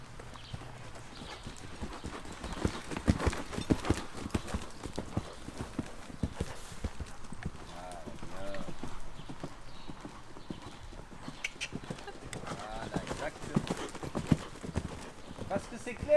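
Horse hooves clip-clopping steadily as the horse circles in a volte during a jumping lesson in an arena, with an instructor talking over the hoofbeats throughout.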